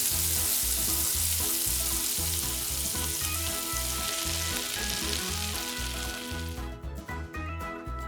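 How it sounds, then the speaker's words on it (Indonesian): Food frying in oil in a miniature kitchen, a continuous bright sizzle with occasional stirring that thins toward the end, over a looping background tune. "Goreng selama 10 menit."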